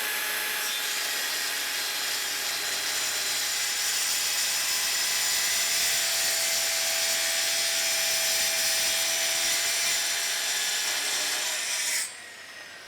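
A Festool TS55 EQ track saw ripping through 4/4 walnut, a loud steady whining cut with a high tonal blade hum that holds for about twelve seconds, then drops abruptly as the blade exits and the motor winds down.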